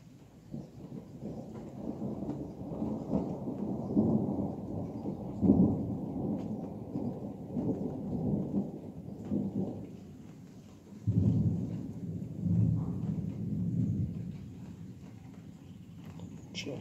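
Heavy thunderstorm: rolling, booming thunder claps over steady rain, loud and continuous for the whole stretch, with a particularly strong rumble near the end.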